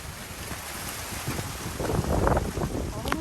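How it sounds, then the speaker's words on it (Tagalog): Strong wind buffets the microphone outdoors, building into heavy gusts with a roaring rush toward the end, during cold weather while banana leaves are stripped. "Parang may bagyo. Yan lakas ng hangin."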